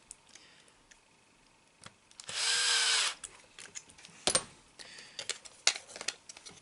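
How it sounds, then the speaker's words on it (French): Power screwdriver tightening screws into plastic parts on a model's front axle: one short steady whirring run, surrounded by faint clicks and handling taps in a quiet room. "Et là, on va prendre un tournevis."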